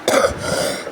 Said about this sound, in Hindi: अवॉइड खांसी, उन्हें कल बहुत कोल्ड ड्रिंक्स पी हैं